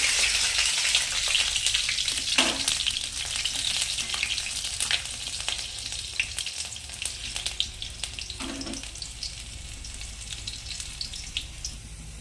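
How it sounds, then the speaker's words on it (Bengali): Garlic and green chillies fry in hot oil with a continuous, crackling sizzle that is close and steady, then slowly softens, with a few faint stirring sounds and no speech. "তেলটাও গরম হয়ে গেছে, এখন আমি রসুন আর কাঁচা লঙ্কা দেবো"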